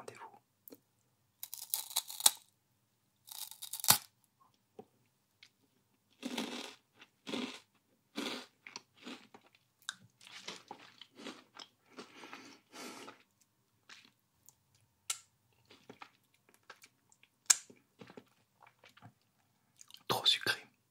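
Someone bites and chews a crunchy white chocolate Kit Kat close to the mic, with bursts of crisp crunching and moist chewing separated by pauses, ending in a final sharp crunch.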